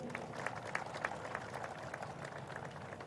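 An audience claps at an event in Pakistan, a dense patter of many hands that holds steady and fairly faint throughout.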